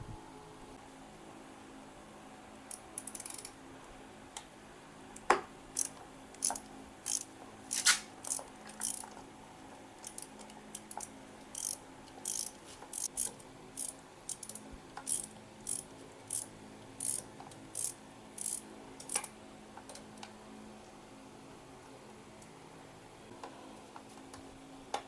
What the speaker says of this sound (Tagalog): Gagamit tayo ng 8mm na pangtanggal ng screw or ng bolt